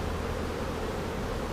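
Honey bees buzz steadily during a hive inspection, a dense, continuous drone close by that stays even throughout with no talk over it.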